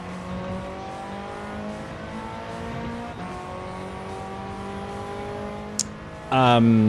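A race car in Gran Turismo 7 holds a steady engine drone through a corner, then a sudden louder burst of revving as it accelerates out, with a brief high squeal just before.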